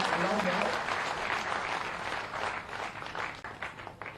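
Audience applause greets a BJP politician at a rally where a Congress ex-MLA joins the party, with steady broadband clapping running about four seconds under a raised voice.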